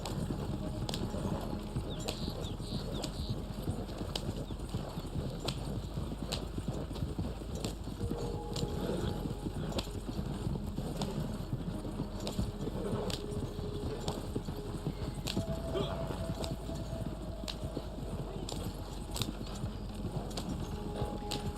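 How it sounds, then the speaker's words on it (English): Two horses pull a moonshine wagon in the Red Dead Online video game, their hooves clip-clopping in a steady rhythmic patter over a constant low rumble of wheels, moderately near throughout. "the Moonshine Wagons actually have 2 horses"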